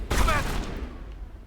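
A single burst from an energy weapon in the sci-fi video game Mass Effect: a sharp, loud blast with a bright sizzling crackle that rings out and decays over about a second, with a voice briefly present.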